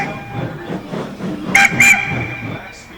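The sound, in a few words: steam train whistle sound effect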